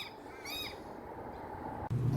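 A small bird just freed from a drain gives a few short, fairly close chirps over steady background noise, with a brief louder knock near the end.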